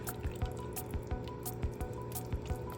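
White wine vinegar poured into a pan of cooking eggplant caponata, with a steady sizzling hiss and a quick run of soft rhythmic dripping and spattering taps.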